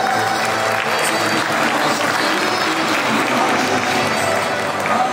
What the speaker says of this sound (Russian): я надеюсь, что мы не пожалеем еще один аплодисмент в радости участников сегодняшнего мероприятия